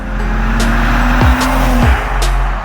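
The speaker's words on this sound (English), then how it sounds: "when you hit that sport mode, you can immediately hear the valves open and hear that woof, that roar" A 2022 Maserati Levante SUV in sport mode gives a loud, steady engine roar from inside the cabin, holding a sustained drone with two brief dips as revs shift.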